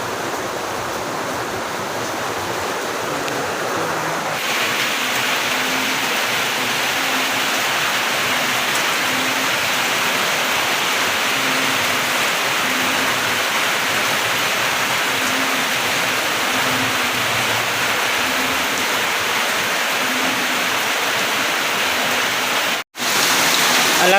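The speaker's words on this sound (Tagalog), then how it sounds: "Kusog yapon ng ulan karon mga ka-partner, oh, kita niyo sa gawas." Heavy rain from Typhoon Odette pours outside a house in the evening, a steady, dense hiss that continues throughout without a break.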